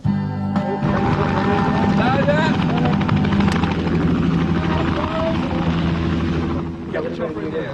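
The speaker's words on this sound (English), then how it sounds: "We're going to do a pass with the helicopter along this edge." A helicopter makes a loud, steady pass along the edge of a track on a film set, its rotor chop and engine drone constant throughout, with people talking underneath.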